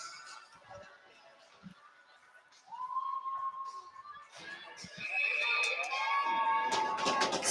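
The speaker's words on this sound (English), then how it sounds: "Crowd gets rowdy for a Minutewomen power play here" A crowd at a UMass women's club ice hockey game against Arizona State cheers for a power play, starting thin with scattered calls, then building into rowdy shouts and whistles that grow louder and fill the rink.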